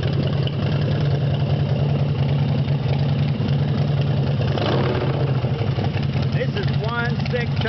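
A chopper motorcycle with a big 124-cubic-inch S&S motor idles steadily nearby, a deep continuous rumble with a brief blip midway and faint chirping sounds near the end.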